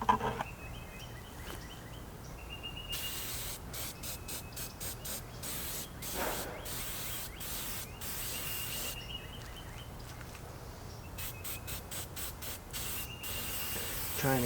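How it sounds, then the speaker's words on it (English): Aerosol paint sprayed onto a WW1 bayonet in short hissing bursts, several quick spurts in two clusters over steady background noise, close and moderately loud. "Let's get to spraying."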